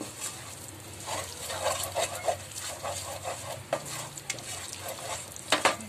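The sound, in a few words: stirring red chili and garam masala into frying crab curry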